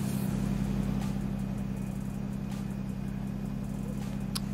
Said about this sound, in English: That is extremely loud. It's a loud car.